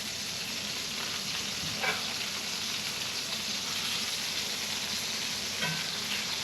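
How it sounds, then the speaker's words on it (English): Steaks sizzle steadily in beef tallow in a hot pan, a loud, constant close-up frying hiss with faint stirring or shifting sounds. "I'm going to put the rest of the beef tallow in there and then give the steaks a gentle flip."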